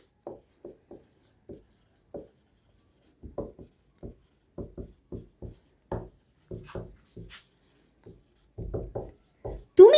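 Marker or chalk writing on a board in a spoken English lesson, heard as short scratchy strokes in uneven bursts, close and fairly quiet, with no talking over them.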